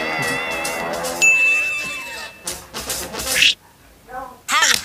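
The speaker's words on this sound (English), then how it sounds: "And the bell's back." A bright ding from a bell in the video game Welcome To Puzzle Park rings out briefly, mixed in with game noises and a person reacting loudly.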